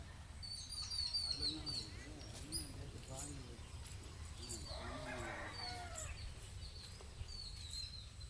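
Chickens cluck and call around a rural yard while being fed finger millet, scattered calls coming and going over low background noise, with a person talking nearby.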